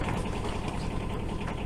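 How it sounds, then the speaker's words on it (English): A sailboat's engine revved to a high idle to warm up, a steady close mechanical hum with no speech. "I started the engine and revved it up to a high idle to let it warm up"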